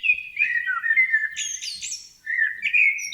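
A songbird sings a continuous, warbling whistled phrase with quick trills and chirps. The song is close and clear, heard alone against a silent background.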